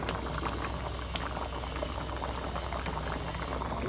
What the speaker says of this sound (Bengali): আলুগুলো সেদ্ধ হয়ে গেছে